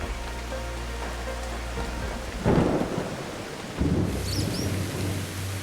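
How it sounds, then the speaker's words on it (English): A heavy rainstorm pours down in a steady hiss while deep rolls of thunder rumble through, swelling twice in loud bursts with no voices. "Rain, vital for life here, can turn threatening in an instant."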